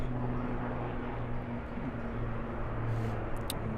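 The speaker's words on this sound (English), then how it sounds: "it's a helicopter passing over me." A steady low engine roar with a throbbing rumble fills the air, a helicopter passing overhead, constant and fairly loud throughout.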